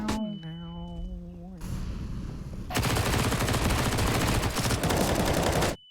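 Pistol gunfire in CS:GO on the Inferno map during a pro match, a dense loud barrage of shots that swells after a brief tonal sound and ends abruptly.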